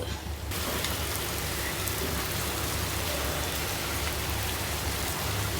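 Steady rain falls on a cooking area, the cooking fire put out by the downpour, as a dense, even hiss that continues unbroken at constant loudness.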